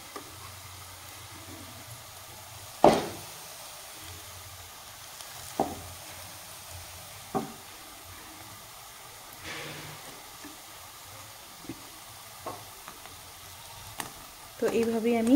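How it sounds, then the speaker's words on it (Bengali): Coconut biscuit pitha fry in a small amount of hot oil with a soft, continuous sizzle, broken by occasional sharp clinks and scrapes as the pieces are turned over in the pan. "তো এইভাবেই আমি উল্টে পাল্টে সুন্দর করে ভেজে নেব।"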